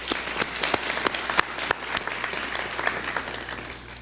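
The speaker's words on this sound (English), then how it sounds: "We'd like to give them a round of applause." A high school graduation audience in a community college hall breaks into applause, with loud, distinct claps up front over a dense crowd wash that slowly fades toward the end.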